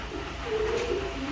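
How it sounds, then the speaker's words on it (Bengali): Racing pigeons, including white racers, give a short, soft, low coo, faint and close, against a quiet background. "বিভিন্ন ধরনের কবুতর আছে"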